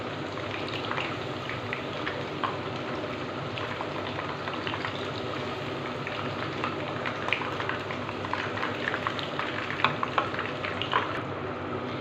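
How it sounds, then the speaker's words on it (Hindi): Chicken half-frying in hot oil, a steady dense crackle and bubbling sizzle, close and even throughout with scattered sharper pops and no talking. "रिमेनिंग चिकन जो है उसे भी हम इसी तरह हाफ फ्राई करके बाहर निकाल लेंगे।"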